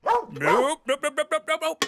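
A voice speaks briefly, then a dog gives a quick run of about seven sharp, evenly spaced barks, close and loud.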